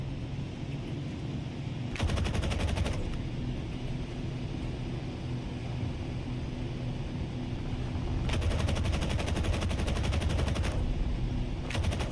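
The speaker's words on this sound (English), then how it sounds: "Oh, the guns are bloody run out. Got to wait for them to reload now." Aircraft machine guns fire in a PSVR2 flight combat game, Aces of Thunder. Rapid bursts crackle over a constant engine drone, with one short burst, a longer later burst and a brief final rattle.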